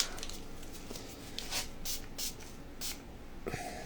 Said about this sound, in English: see what happens with an art spray over the tops of these metallics